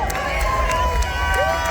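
Festival crowd at Electric Forest 2023 cheering and hollering outdoors, a broad sustained roar of many voices with a few louder shouts rising above it.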